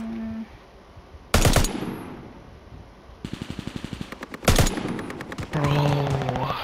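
Video game gunfire in a gondola map fight: rapid machine-gun bursts and a couple of loud single shots ring out up close, spaced across the moment with brief gaps between volleys.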